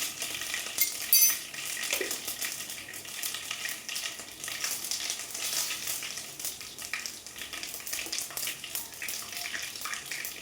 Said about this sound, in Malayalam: കടുക് പൊട്ടിക്കൊണ്ടിരിക്കണം.